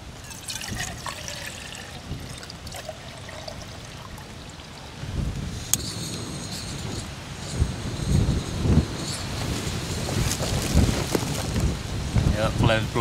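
Wind gusts buffet a wild camp stove setup on the Cleveland Way, a steady broadband rush rising in strength after the midpoint, with bursts of microphone buffeting and faint clinks from the pan.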